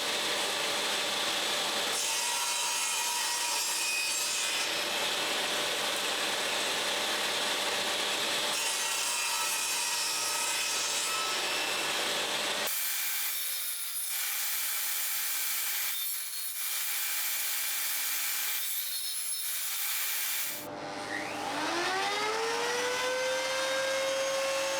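Wooden guitar neck block being trimmed to size and rounded over at the edge, with long stretches of rough, close rasping and sawing strokes broken by short pauses and a rising whine of a tool near the end.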